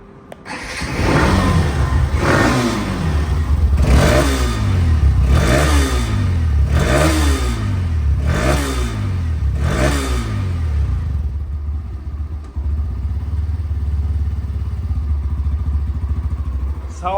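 A Hero Xtreme motorcycle with ABS, secondhand, runs close by and is revved repeatedly in about seven rising-and-falling bursts, then settles into a steady idle rumble.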